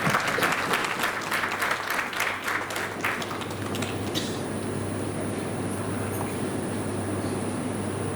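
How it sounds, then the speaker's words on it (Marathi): A lecture audience claps loudly for a few seconds, and the applause fades into a steady murmuring hall with a constant hum. "जोरदार टाळ्या पेशंटसाठी"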